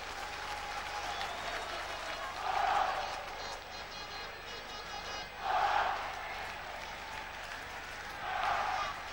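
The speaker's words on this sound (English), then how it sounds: "Noise from the crowd, really generating a tremendous atmosphere." A football crowd at a 1997 Stevenage Borough versus Woking match keeps up a continuous background roar, swelling into three distinct surges of cheering and clapping spaced a few seconds apart, heard at a distance with faint commentary-level talk underneath.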